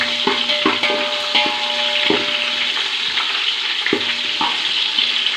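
Small shallots sauté in a pan for bisi bele bath, a continuous close sizzle broken by a few sharp knocks and scrapes of a stirring spoon.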